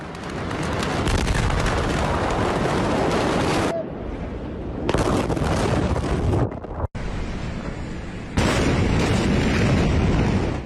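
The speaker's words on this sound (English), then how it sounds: "An explosion so powerful, shockwaves were reportedly felt clear across the Mediterranean in Cyprus." A massive explosion in Beirut, Lebanon, recorded on a phone during the evening rush hour: loud, sustained roaring blast noise and rumble fills the scene, broken by abrupt cuts, with wind-like buffeting throughout.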